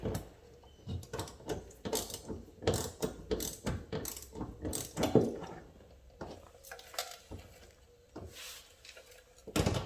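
A ratchet tightens mud flap screws into the plastic wheel-well lining of a Kia Soul EX, giving close, repeated clicking pawl strokes in uneven bursts with short pauses.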